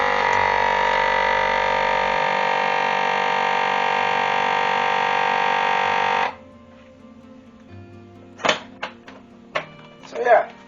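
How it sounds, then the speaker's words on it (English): A vacuum sealer sealing a bag of smoked bacon runs with a loud, steady mechanical buzz for about six seconds, then cuts off, followed by quieter clicks and thumps and a few brief handling noises. "I vacuum seal it"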